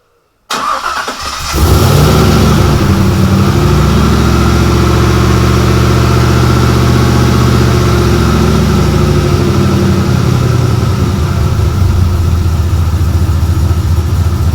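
An Outlaw buggy engine fitted with a new exhaust cranks and fires, then settles into a loud, throaty idle with a steady rumbling pulse.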